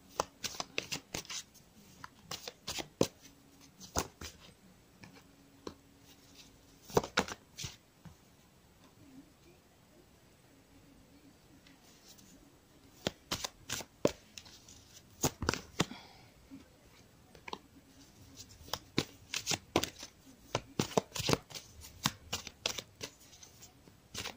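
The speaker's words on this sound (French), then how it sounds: "je passe à l'oracle des miroirs. Et je vais tirer des cartes complémentaires." A deck of oracle cards shuffled for a tarot-style reading, heard close in repeated bursts of riffling and flicking separated by quiet pauses, with the shuffling growing busier toward the end.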